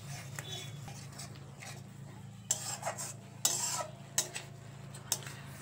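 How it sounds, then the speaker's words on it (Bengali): Spice paste for chicken dopiyaza being stirred and fried in a pan, heard as a steady low hum with a few sharp utensil scrapes and clinks scattered through, fairly quiet, no speech. "এবার মশলাটা খুব ভালো করে কষিয়ে নেব যতক্ষণ না মশলার থেকে তেল ছাড়ছে"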